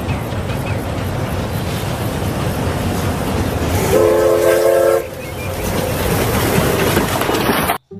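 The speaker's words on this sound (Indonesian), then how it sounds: "Wah, kereta Thomas." A Thomas the Tank Engine train rumbles and clatters steadily throughout, loud and continuous, with a horn blast sounding for about a second midway before the rumble resumes and cuts off abruptly.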